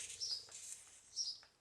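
A lone sparrow sings from a rooftop in Somerset, a few quick high chirps in two short bursts, faint and distant with no other sounds.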